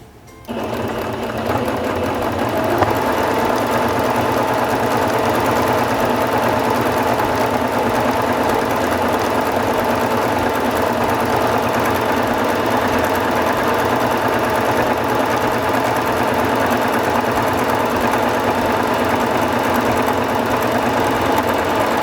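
A Singer Fashion Mate 5560 sewing machine runs steadily and loudly on a decorative stitch, a continuous mechanical whir that stays even from a quick start to the end.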